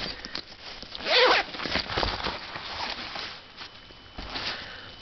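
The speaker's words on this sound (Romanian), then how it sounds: "fermoar." A zipper on a black HP travel case for a 16-inch laptop is pulled open in a quick, raspy burst near the mic, followed by softer rustling and handling of the fabric case.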